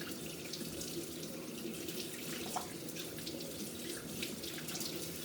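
Tap water runs steadily into a sink, splashing softly as hands move under the stream, with no voices.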